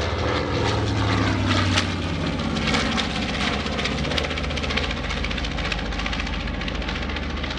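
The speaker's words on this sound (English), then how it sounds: "Here comes our first B-25." A World War II B-25 bomber roars past at an air show, its piston propeller engines producing a loud, sustained, throbbing drone that stays close and powerful throughout, with no voices.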